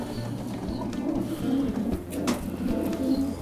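Soft, low pigeon cooing repeats in a steady rolling rhythm, close by, with faint higher chirps in the background.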